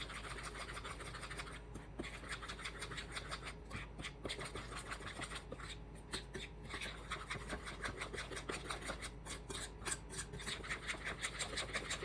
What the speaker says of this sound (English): I'm just gonna mix it up. And I'm gonna use my whisk.